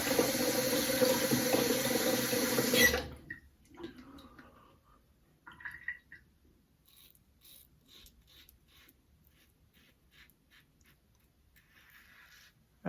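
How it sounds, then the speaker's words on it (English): Water from a faucet running loudly into a sink for about three seconds before shutting off, followed by faint drips and small scattered handling sounds. "Here comes the squeaky faucet"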